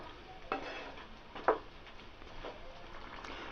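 Thick mutton curry in a pressure cooker pot is stirred with a spoon, giving a low bubbling sizzle with a couple of distinct scraping knocks and soft squelches, close and without talk.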